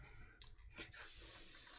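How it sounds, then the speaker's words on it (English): Spray painting a Gunpla model engine yellow: two short airbrush bursts hiss in quick succession, then a longer, steady loud spray holds to the end, close and alone. "I'm spraying the engine yellow"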